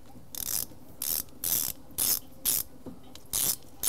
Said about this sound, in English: we're just gonna put a little wobbly on that and kind of loosen those bolts up a little bit more